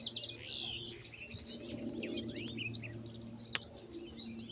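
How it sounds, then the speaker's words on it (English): Birds chirp and twitter continuously on a quiet potato farm, a mix of small nearby songbirds calling in quick bright bursts over a faint low rural hum, with no voices. "You just can hear the birds."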